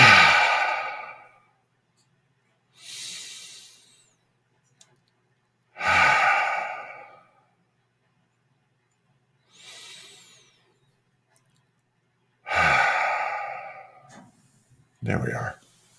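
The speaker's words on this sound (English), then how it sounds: "3 deeply satisfying breaths. Together." Three slow, deep breaths during a guided mindfulness exercise, each a long audible inhale followed by a softer exhale, spaced evenly apart with near silence between them.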